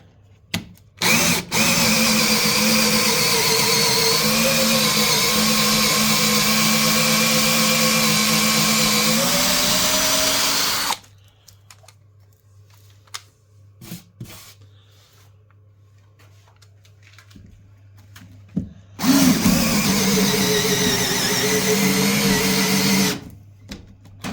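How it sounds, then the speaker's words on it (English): A power drill with a 12mm HSS steel bit bores into timber in two long, loud, close whining bursts that dip in pitch under load, separated by a quieter pause with light knocks. "I'm just going to go on to a straight 12mm. This is a HSS bit."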